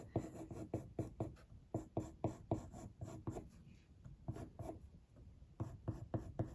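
Caran d'Ache Luminance coloured pencils shade on paper, with quick, rhythmic scratchy strokes in bursts, close and quiet, pausing briefly midway.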